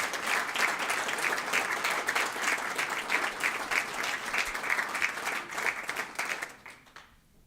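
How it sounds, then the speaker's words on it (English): Applause at a joint assembly and school board meeting honoring a group's support of the Mat-Su 2024 Arctic Winter Games: many people clap steadily for several seconds, then it thins and fades out near the end. "I'd love to have a round of applause for this group right here."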